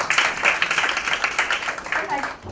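Brief applause from an audience at a panel discussion on women's economic empowerment, a steady patter of many hands lasting a couple of seconds, moderately loud and tapering off at the end.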